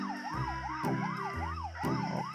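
A police car siren in an Indonesian police simulator mobile game wails in a steady rising-and-falling cycle, loud and continuous over a low engine drone.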